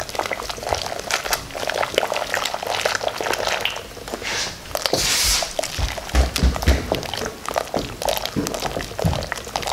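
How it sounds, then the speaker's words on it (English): Corn soup being swizzled by hand in a pot, giving a steady wet sloshing and bubbling churn with soft knocks, close and continuous throughout. "I'm swizzling it because I do not have an immersion blender."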